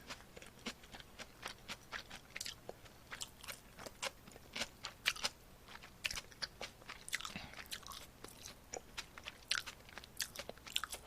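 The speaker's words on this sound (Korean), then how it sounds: "삼겹살 샐러드입니다" Pork belly salad being eaten close to the mic, with repeated crisp bites and crunchy chewing in an irregular steady rhythm, no talking.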